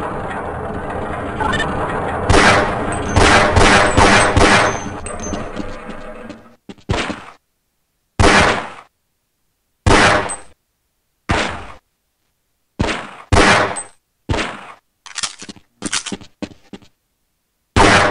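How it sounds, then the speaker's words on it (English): Gunshots ring out at an indoor firing range in the game Half-Life: Blue Shift, a dense burst of rapid shots followed by a series of loud, evenly spaced single reports separated by silence. "if you want to squeeze in a few shots in the range"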